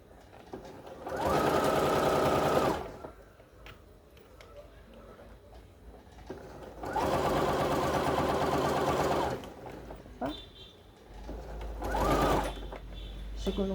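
Sewing machine stitching a French seam on a cushion cover, running in two long steady bursts of several seconds with a shorter third burst, separated by quieter pauses with light handling.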